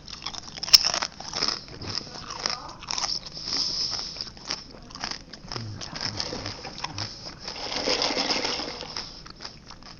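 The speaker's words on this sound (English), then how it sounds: "Taquitos are good. They got a nice crunch to them." Someone bites into and chews a rolled chicken taquito from Taco Bell, with quiet, close crunching and crackling bites repeating irregularly over several seconds, without talk.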